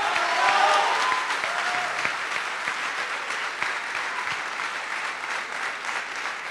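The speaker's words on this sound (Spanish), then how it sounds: "Aplausos también a la cuarta" At the closing ceremony of a university conference, a large audience breaks into sustained applause, a dense continuous clatter that swells at the start and then holds steady, with a brief voice heard early on.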